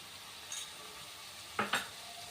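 Pepper chicken fried rice frying in a pan, a quiet steady sizzle with two sharp scraping stirs of the utensil near the end, no talking.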